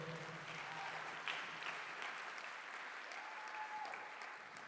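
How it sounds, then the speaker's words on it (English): Audience at a housing charity gala applauding steadily, a faint, dense patter of many hands continuing without a break. "Can we give the staff and the crew and everyone a big round of applause too?"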